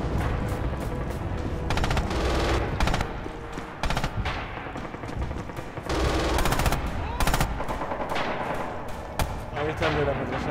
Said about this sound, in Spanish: Ahí está el de la ametralladora